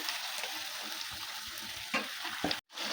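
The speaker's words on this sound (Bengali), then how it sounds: "ধুয়ে রাখা চিকেনটা দিয়ে দেবো," Washed chicken goes into spices frying in a pan, raising a steady close sizzle with a few soft knocks of stirring, ending in a brief cut of silence, no talk.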